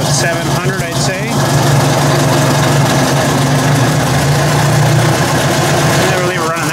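Ford 800 tractor engine idling at low revs, a steady, loud, continuous low rumble that holds throughout, with a brief rise in activity near the start and end.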